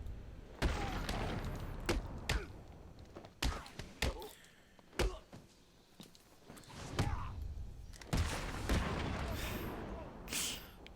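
Gunfire in the video game Batman: Arkham City, a run of sharp broadband shots and bursts, some in quick clusters, with loud stretches of action noise and occasional talk mixed in.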